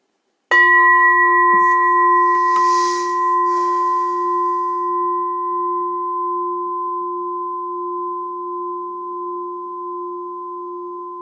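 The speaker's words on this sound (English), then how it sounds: "Are you hearing that bell, by the way?" A single meditation bell struck once during a dharma talk rings out with a clear, pure tone that hangs and slowly fades over many seconds in a quiet room.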